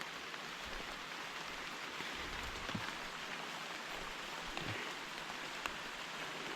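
Light rain falls outdoors on an overgrown grassy path, a faint, even hiss that runs steadily throughout with a few soft droplet ticks and no voices.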